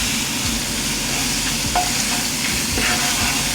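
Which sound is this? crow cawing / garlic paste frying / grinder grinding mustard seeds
garlic paste frying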